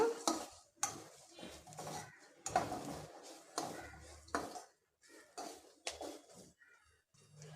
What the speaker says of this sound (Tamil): இது எல்லாத்தையும் ஒரு ரெண்டு நிமிஷம் மட்டும் அப்படியே வதக்கி விட்டுடலாம்